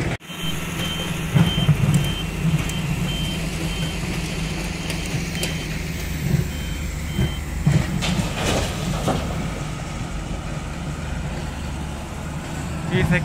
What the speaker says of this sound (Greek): Ήρθε και το φορτηγό